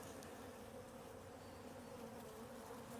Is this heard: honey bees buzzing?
yes